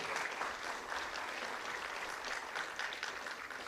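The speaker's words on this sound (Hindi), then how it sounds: "तालियां आपकी तरफ से जोरदार हो स्वागत करें।" A crowd at a government school event applauds in welcome, with sustained, even, dense clapping heard from a distance at low level.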